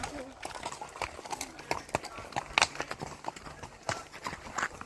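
Horse and pony hooves clip-clop in an uneven rhythm on a hard surface nearby in Normandy, France, with background chatter and street noise around them.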